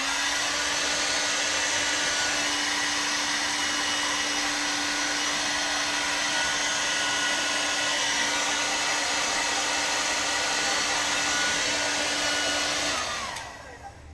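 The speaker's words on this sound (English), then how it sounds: "we're going to use our hair dryer really quick." A hair dryer blows steadily and loud at close range for about thirteen seconds, drying a fresh Plasti Dip coat on car wheels in cold weather, then cuts off near the end.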